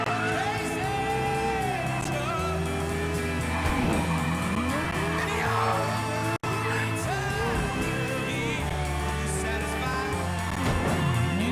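A car driven in the video game Mafia III: a loud, continuous engine drone with rising and falling revs and bursts of tire squeal, running throughout with only a brief dropout midway.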